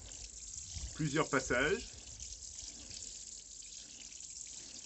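A small watering bar sprinkles a tomato seed tray with a soft, steady hiss of spraying water, close and fairly quiet, while someone speaks briefly over it.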